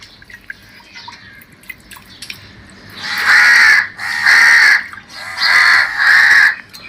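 Four loud crow caws in a row, harsh and close, each drawn out, following a few faint clicks and drips.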